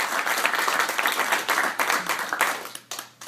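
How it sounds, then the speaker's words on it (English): Audience applause welcoming a speaker to the front of a room, dense, loud clapping from a crowd that thins toward the end into a few separate claps. "give him a warm round of applause"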